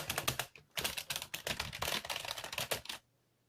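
Fingers type on a Lenovo computer keyboard at close range, a busy run of crisp clacking keystrokes with brief pauses, which stops abruptly near the end and leaves faint quiet.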